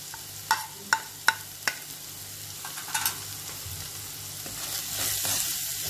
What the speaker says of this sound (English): Fry everything until the raw smell of the masalas goes away.